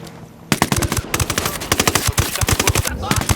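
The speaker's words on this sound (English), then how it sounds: "Has shooting a man ever sounded more pleasurable than that?" Sustained automatic gunfire from shooting enemies in the video game Ghost Recon Wildlands, loud rapid bursts of shots cracking in dense succession after a brief quiet start, with no talking.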